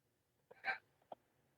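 A single faint, close hiccup, with a small breathy catch on either side, stands out in an otherwise quiet room.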